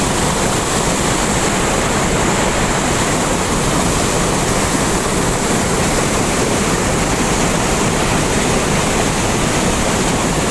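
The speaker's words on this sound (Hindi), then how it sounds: "ये देखें इधर से पानी गिर रहा है, तो पानी की स्पीड है वो देखो बहुत ज़्यादा।" Fast water pours and rushes through the BRB canal near Kasur, a loud, constant, close roar of falling water with no pauses and no voices.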